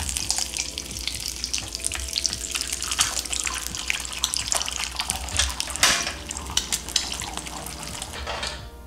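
Chorizo sizzling and frying in a pan, a steady crackling hiss with scattered sharper pops and the clatter of a utensil against the pan, close and moderately loud, no talking.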